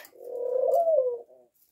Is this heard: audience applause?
no